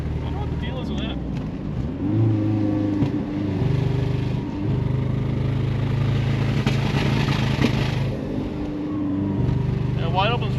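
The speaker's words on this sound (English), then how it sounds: "Yeah, wide open throttle, it's not happy." A 1983 turbo coupe with a loose exhaust revs at wide open throttle, its engine note rising and falling roughly and unevenly, while voices talk over it.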